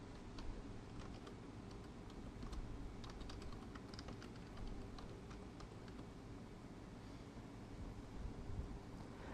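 Typing on a computer keyboard: quiet, irregular keystroke clicks tapping away steadily close by, with no voices.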